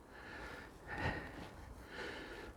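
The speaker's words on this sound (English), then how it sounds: "My nose is running today. You might hear me sniffling about." Quiet sniffling from someone with a runny nose outdoors in a wood, a few short nasal sniffs spaced out over a couple of seconds, faint and close.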